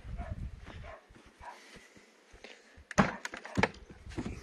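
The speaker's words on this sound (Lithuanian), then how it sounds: "Šunys loja." A couple of sharp barks ring out close by toward the end, after a stretch of quiet shuffling and muffled movement in a snow-covered yard.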